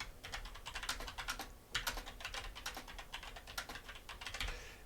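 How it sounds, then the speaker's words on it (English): Someone types quickly on a computer keyboard in a quiet room, a close, steady clatter of crisp keystrokes that comes in quick runs with short pauses. "Here we can simply type extra data or cut and paste extra data"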